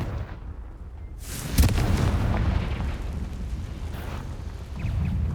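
A Confringo blasting spell bursts in Hogwarts Legacy with a sudden loud boom, then a long rumbling, crackling roar of debris and fire that lingers to the end and swells again near the close.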